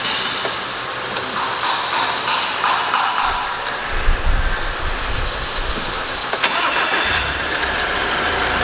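BMW X1 engine starting and running, a loud, close mechanical roar that swells midway and holds as a steady engine drone.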